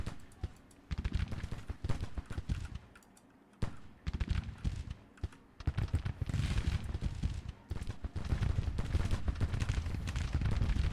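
Civil War musket and rifle volleys crackle in Grand Tactician: The Civil War during a siege of Nashville, with dense, uneven bursts of gunfire that pause briefly and then return louder and more sustained.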